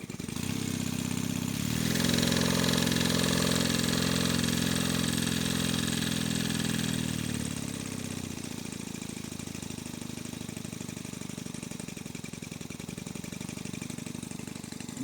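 A Stuart Turner Sirius marine steam engine, rated to run at 2,800 revs and fitted with a power takeoff, runs with a steady, dense mechanical churn that is loudest early on and eases slightly, continuing alone without talk.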